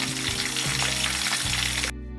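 Italian panko chicken frying in a pan gives a steady, close, loud sizzle with crackling spits, continuous throughout until it cuts out abruptly near the end.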